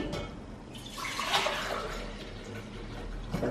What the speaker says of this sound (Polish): Do tego dodam wody, dam do lodówki